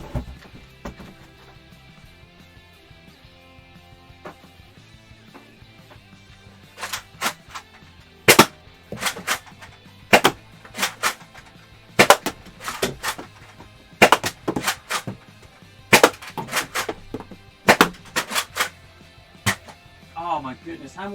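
Rapid bursts of sharp pops from an X-Shot Chaos Meteor (RXB-0060) foam dart toy blaster, starting after a quiet stretch and firing in irregular volleys of loud, close shots indoors, with faint talk in the background.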